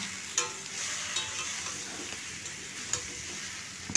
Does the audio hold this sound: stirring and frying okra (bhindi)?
yes